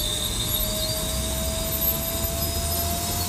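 A SubSonex jet aircraft sits on a runway as its engine is throttled up, giving a loud, steady roar with a constant whine running through it and no voices.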